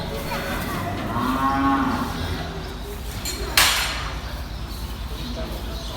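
A cow on a farm lets out one drawn-out moo near the start, over steady background noise, followed by a sharp clink.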